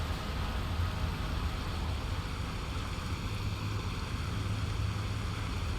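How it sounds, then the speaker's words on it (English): A steady, broadband rush of falling water roars continuously with a deep low rumble, no voices, a waterfall heard close by in the video game Elden Ring. "That was waterfall noise."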